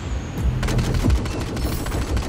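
Rapid bursts of Battlefield 4 gunfire crackle in quick succession, with several sharp shots packed close together over a couple of seconds.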